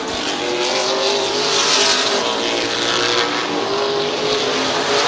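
Race cars roar around the Midvale Speedway oval in a steady, loud pack, engine drone rising and falling as they pass with faint tire squeal, no voices.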